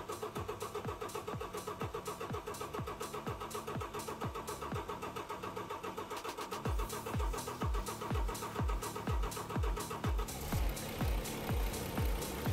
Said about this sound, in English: We're cranking the engine to get the fuel up to the injectors